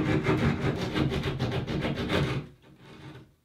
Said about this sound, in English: this is a one gang box saw attachment by Cubit